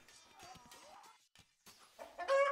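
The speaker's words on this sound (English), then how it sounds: "Chickens." Chickens clucking in the strategy game Renaissance Kingdom Wars, short clucks and squawks that rise louder near the end over quiet game ambience.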